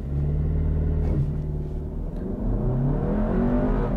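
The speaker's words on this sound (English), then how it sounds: "There's a little bit of turbo lag off the line, but once the turbo kicks in, the engine feels pretty strong" A 2023 Audi Q3 45 TFSI SUV launches hard from brake torque, its turbocharged engine droning loud and steady and rising in pitch as it pulls through the run, with continuous road rumble beneath.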